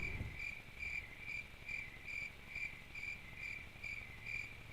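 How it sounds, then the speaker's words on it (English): Crickets chirping alone in quiet night air: a steady, even pulsing trill that repeats about twice a second, clear and fairly close, with no voices. "Oh, the crickets."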